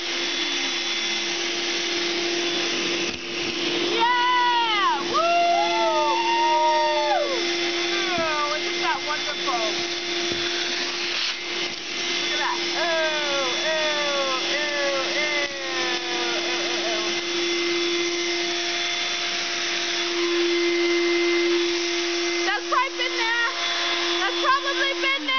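A shop vacuum runs loud and steady throughout, a constant whining drone with changing tones as debris is sucked up, while people talk over it.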